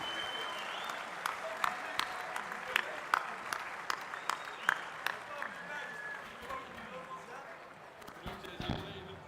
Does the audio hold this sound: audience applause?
yes